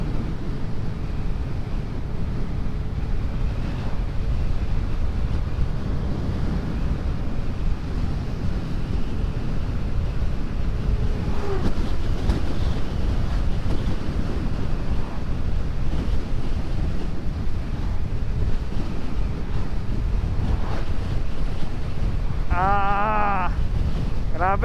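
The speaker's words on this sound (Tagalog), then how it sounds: "Napakalakas ng hangin, grabe." Strong wind roars continuously into the microphone while a motorcycle is ridden on the road from Laguna to Albay, a dense unbroken rush with a brief horn-like tone near the end.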